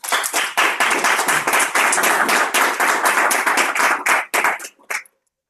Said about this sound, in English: So please give him a rousing applause to Rochelle.